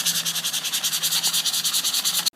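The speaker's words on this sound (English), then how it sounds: "Just take the sandpaper, bend it a little, and just want to go down the barrel, getting all that rust off" Sandpaper rubbing rust off the barrel of a Remington 1100 or 1187 shotgun, a loud, close, steady rasp in quick back-and-forth strokes that stops abruptly at the end.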